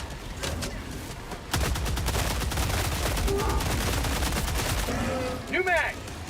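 Sustained gunfire in the co-op shooter Helldivers 2, a dense rapid stream of automatic shots after an opening burst, loud and close, with a voice briefly talking over the tail end.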